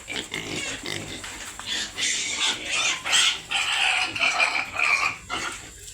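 A backyard pig grunts and squeals in repeated loud, rough bursts, close by, with faint voices in the background.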